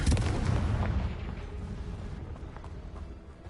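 Confringo fire spell going off in the video game Hogwarts Legacy, a loud booming blast that rumbles and slowly fades over a few seconds.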